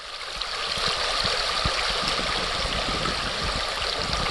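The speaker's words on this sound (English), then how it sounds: "So this is the Sushana River here" The Sushana River in Alaska flows by close and loud, a steady rushing, gurgling wash of water with no voices.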